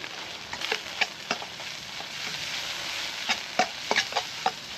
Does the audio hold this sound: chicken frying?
yes